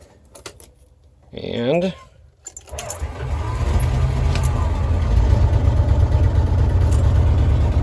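A car's engine starts and settles into a steady idle: keys jangle and a voice speaks briefly first, then the motor catches and runs at a continuous, loud rumble to the end.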